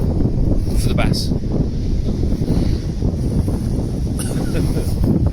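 Strong wind buffets the microphone on Dungeness beach during a rough sea bass fishing session, a loud continuous roar with gusty swells throughout.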